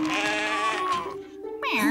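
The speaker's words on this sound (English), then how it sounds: "Get out of there, you naughty sheep." A cartoon sheep bleats loudly and close by in a long wavering cry, followed by a second shorter bleat.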